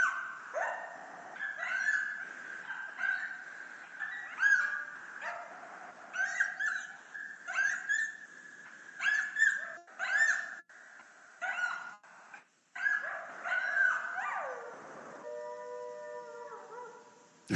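A coyote pup chorus yips, yelps and wavers in high quavering cries for a long stretch, then finishes with a short, clear howl, sounding moderately distant and echoing outdoors.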